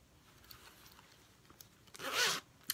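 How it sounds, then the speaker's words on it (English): Zipper pulled open on the top of a small handmade canvas case with card slots: one brief, close, raspy zip after quiet handling noises. "And then the top zips open."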